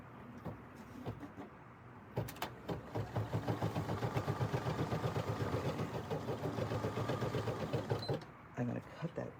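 A BERNINA embroidery machine stitches a design onto a bag, its rapid, steady mechanical chatter running continuously for several seconds at close range before stopping, with short gaps and handling noise at the start and end.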